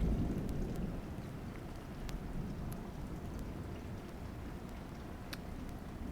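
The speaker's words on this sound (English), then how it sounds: "It is lightning and thundering right now." Steady rain during a thunderstorm, with low rumbling thunder rolling underneath and a few sharp drips or cracks standing out, continuous and moderately loud with no one talking.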